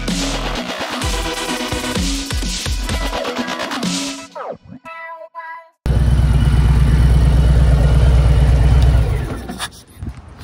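A Harley-Davidson Low Rider ST motorcycle engine runs loud and close with a steady low throb, cuts out briefly, then comes back with a strong, even rumble before stopping near the end.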